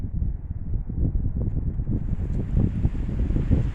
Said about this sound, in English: it is uber windy out here